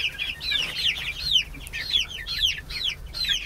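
Chicks and young chickens in a secure coop warmed by two heat lamps give a steady stream of close, overlapping peeps and clucks, continuous and fairly loud, with no talking.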